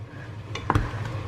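Wontons frying in a wok with a soft steady sizzle and a brief clatter of stirring or utensil contact midway.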